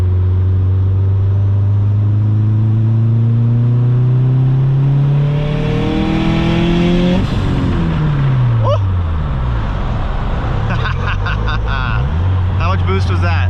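A tuned, boosted car engine revs hard from 3,000 to 5,500 rpm as it accelerates, its drone climbing steadily in pitch, loud and close, before easing off and shifting near the end.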